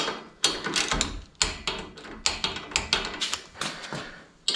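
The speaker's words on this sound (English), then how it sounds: "torque these down to 10 newtons" Ratcheting clicks from a torque wrench tightening bolts on a pannier rack for a Royal Enfield Himalayan motorcycle, heard up close as a series of short, sharp mechanical clicks in uneven bursts, without speech.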